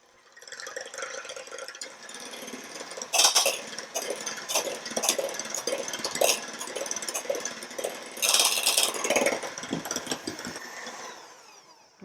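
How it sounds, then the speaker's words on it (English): A whisk or mixer whipping egg whites in a bowl for low-carb oopsie bread, a continuous whirring churn with clinks against the bowl, louder in spells and fading out at the end. "So I'm going to go ahead and start whipping them up."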